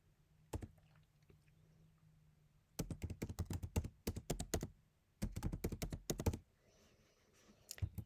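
Bursts of rapid typing on a computer keyboard, close and crisp, in two long runs of dense clicking separated by quiet pauses, with a single tap near the start.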